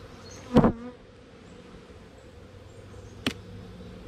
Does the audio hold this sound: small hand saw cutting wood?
no